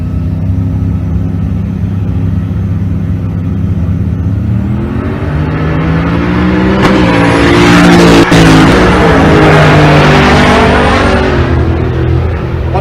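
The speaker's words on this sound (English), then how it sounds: "Silverado coming at you." A Silverado pickup races down a drag strip at Pueblo, Colorado, its engine roaring loud and close with a rising whine as it accelerates and passes by, with a steady high-pitched whir underneath.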